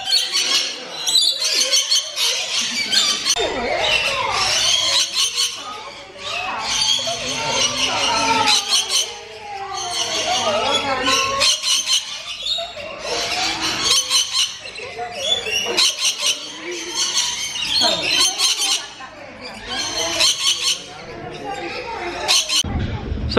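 Lorikeets squawk and chatter inside a walk-through safari park aviary, a dense, continuous wash of shrill bird calls, loud and close, with people talking underneath.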